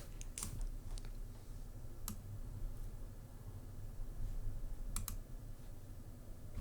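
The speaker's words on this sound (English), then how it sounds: "He's just been typing, bro." Computer keyboard typing in a few scattered bursts of sharp clicks over a steady low background hum, with no talking.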